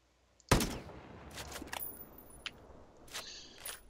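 Long-range sniper rifle shots in the video game Ghost Recon Breakpoint: one sharp loud crack, followed by several quieter cracks and mechanical clicks.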